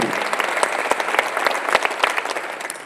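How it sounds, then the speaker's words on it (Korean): A church congregation at a Sunday worship service applauds together, a brisk, loud burst of many hands clapping with a few sharper claps standing out, with voices mixed faintly underneath. "박수로 하세요."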